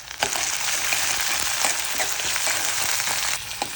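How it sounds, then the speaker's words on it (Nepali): Poha ingredients fry in mustard oil in a pan, giving a steady, close sizzle with scattered scrapes and clicks from stirring and no voices. "मजाले भुट्यो"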